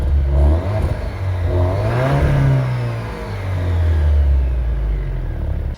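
An Alfa Romeo Giulia or Stelvio 2.0T engine revs up and down with a deep, rumbling aftermarket exhaust note, loud and close throughout.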